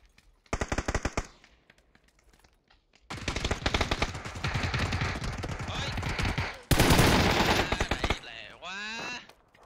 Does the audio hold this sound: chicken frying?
no